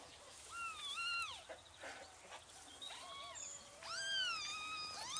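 Kittens in a litter mew repeatedly, high rising and falling cries in short bursts that overlap at times, fairly faint and close, with no speech.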